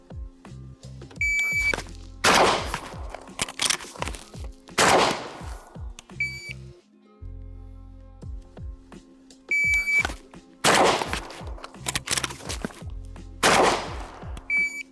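Shot timer beeps followed by loud shotgun blasts, two shots after each beep, repeating in cycles with brief reloading sounds between, outdoors and close during shooting training.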